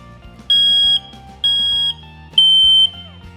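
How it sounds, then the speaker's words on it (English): Three loud, shrill electronic beeps from a smoke detector being tested, each about half a second long, sound at an even pace over a low background hum. "Now that we know that the sound works in our smoke detector"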